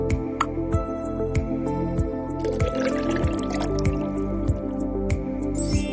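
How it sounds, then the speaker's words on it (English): Water poured into an empty plastic bottle in a homemade water pump experiment, a trickling, filling stream with regular drips and gurgles, close and clear, with no talk. "Now fill up the bottle with some water."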